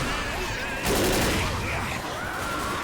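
Automatic rifle gunfire in the game Left 4 Dead rattles in dense, continuous bursts that rise sharply about a second in, with a voice talking over the shooting.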